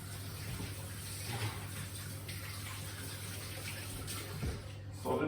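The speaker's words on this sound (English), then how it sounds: "I just need to wash my hands." Water runs steadily from a sink tap while hands are washed during home baking of banana oat cookies, a continuous close hiss with a few small splashes and a brief knock near the end.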